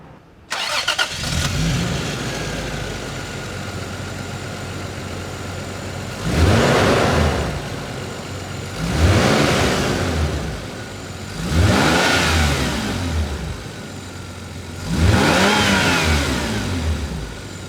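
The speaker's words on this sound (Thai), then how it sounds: "มาฟังเสียงเครื่องยนต์กัน อยากได้ยินแล้ว" A Toyota Supra A70 six-cylinder engine cranks and catches, settles into a steady idle, then revs up four times in evenly spaced bursts, loud and close.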